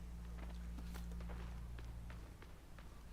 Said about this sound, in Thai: มีเสียงเท้าข้างหลังอีกแล้ว